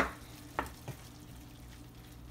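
Tomato paste is stirred into meat frying in a pan for a Haitian-style potato gratin, with a few soft scraping strokes over a quiet steady sizzle and no voices.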